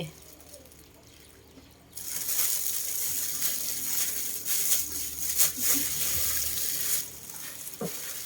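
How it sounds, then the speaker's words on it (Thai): Water poured into a pot while cooking Thai curry in a rural kitchen, a loud steady splashing gush starting abruptly and running for several seconds, with bumps and clatter toward the end. "น้ำใส่"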